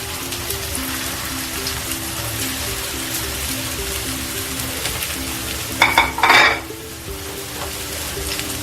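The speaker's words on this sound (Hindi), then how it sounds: "अब हमारा ये तेल गर्म हो चुका है। अब इसे हम इसमें सैलो फ्राई करेंगे।" Wheat flour snacks shallow frying in hot oil over a medium flame, giving a steady close sizzle and crackle with a brief louder burst of spattering partway through.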